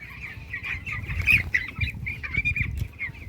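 Chickens in a poultry farm clucking and chattering close by in a continuous, busy stream, with wings flapping and fluttering among them.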